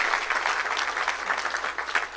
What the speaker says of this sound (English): Let's give Brett a round of applause.